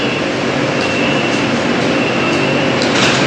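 A BTS Skytrain metro train roars through a busy elevated station in Bangkok, a dense, steady rushing rumble with faint high squeals, loud and continuous for the whole moment with no talk.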